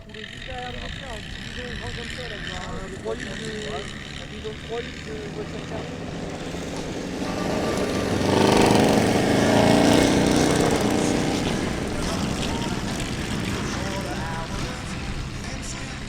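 Vintage Ford V8 and a handmade roadster racing on a Normandy beach, engine drone rising as the cars pass nearby and fading again, with a commentator speaking over the noise.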